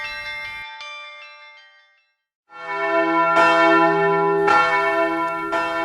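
Slovenian church bells chiming in the rhythmic struck style called pritrkavanje from a church bell tower: loud ringing strikes with long sustained tones, a short silent gap, then another round of chiming.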